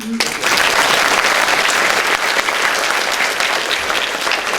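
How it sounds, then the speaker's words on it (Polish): Loud, dense applause from a sizable crowd, steady clapping that starts abruptly and continues without a break. "Brawa dla niej."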